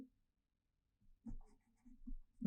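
Quiet writing on a board during a physics lecture working through a solenoid example, a few faint scratchy marker or chalk strokes in short bursts after a brief silence, heard close with no talking.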